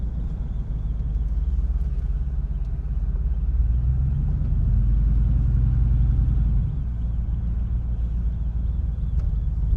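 A truck engine idling without a muffler: a steady, deep, close rumble that thickens slightly for a few seconds in the middle before settling back, with no talking.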